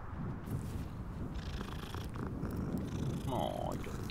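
A cat in the Hogwarts Legacy video game purrs in a low, continuous rumble, ending with a single short, deep meow, under faint ambient game sound.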